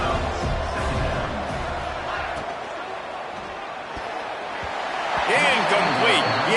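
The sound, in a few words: football stadium crowd cheering on third down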